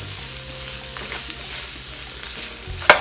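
Ground turkey and peppers sizzle steadily in a pan, a close, even frying hiss broken by a few stirring scrapes and a sharp clank at the end.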